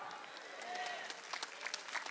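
A church congregation claps hands together in a burst of scattered, overlapping claps during a worship service, moderately loud and close, with a faint voice underneath.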